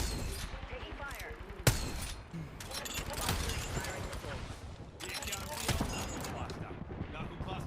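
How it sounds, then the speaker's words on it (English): Rapid bursts of video game gunfire crackle in a battle royale match, with fast repeated shots and sharp impacts mixed with dense game effects and voices talking over the action. "Attention. Taking fire."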